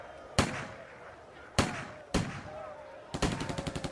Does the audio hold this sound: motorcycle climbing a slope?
no